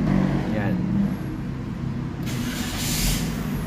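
A 2023 Toyota Vios XE with a CVT idles steadily as a low, continuous engine hum heard from close by, while a person talks over it.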